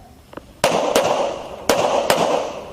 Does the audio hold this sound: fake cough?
no